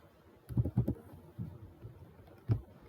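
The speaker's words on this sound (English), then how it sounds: "So just type this command line and press enter in your keyboard." A few sharp keystrokes on a computer keyboard as a command is typed into the Windows Command Prompt: a quick cluster of clicks, a pause, then one last isolated key press, close and fairly quiet.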